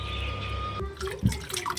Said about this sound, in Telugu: మనం క్లీన్ చేసి పెట్టుకున్న రొయ్యలు ఒక 3-4 టైమ్స్ కడుక్కోవాలి అదే వాటర్లో.